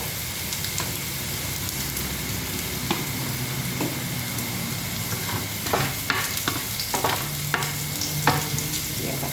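Chopped garlic sizzles in hot oil in a flat steak pan, a steady close frying hiss broken by scraping stirs that grow busier toward the end.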